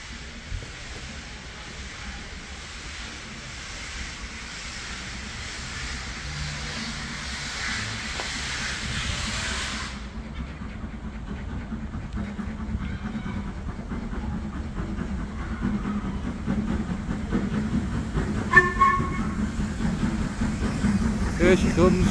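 A steam locomotive approaches Carnforth Station, a broad rumble and hiss that swells steadily as it comes closer, with a brief sharp sound near the end.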